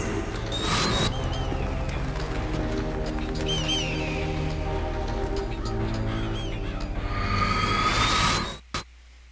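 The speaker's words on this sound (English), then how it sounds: "I don't want to be around those damn birds." Honking, goose-like bird calls in the Metal Gear Solid video game, repeated squawks over a dense game soundscape with a steady low hum, ending in an abrupt cutoff.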